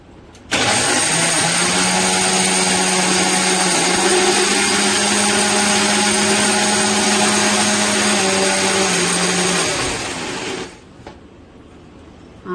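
A mixer grinder whirs as it grinds green chillies for pickle, starting abruptly, running at a loud, steady, high-pitched motor whine with a slight dip in pitch midway, then cutting off about ten seconds later.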